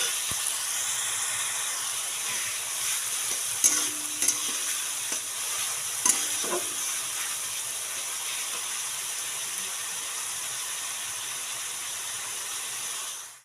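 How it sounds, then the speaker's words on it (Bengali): Onion and garlic paste fry in a pan for chicken kosha, with a loud continuous sizzle and hiss broken by a few sharp clinks and scrapes of a spatula stirring, no voices over it. "রসুন বাটাটা আমি দেবো দিয়ে দিলাম রসুন ভাজা হয়ে গেছে"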